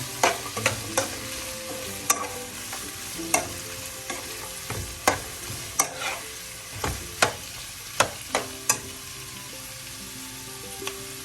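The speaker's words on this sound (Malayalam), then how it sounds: "ഈ സമയം നമുക്ക് അരിഞ്ഞു വെച്ചിരിക്കുന്ന 2 സവാളയും കൂടെ ചേർക്കാം. എല്ലാം കൂടെ ഒന്ന് മിക്സ് ചെയ്യാം." Chicken with two chopped onions being stirred in a frying pan for a Kerala-style chicken pirattu, steady sizzle under repeated scraping strokes of a spoon, close and distinct, with no talking.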